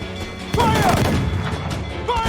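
A broadside of ship cannons booms out in the naval combat of Assassin's Creed Freedom Cry, a loud rolling burst of overlapping blasts that rumbles on, with a shouted voice and another distant shot near the end.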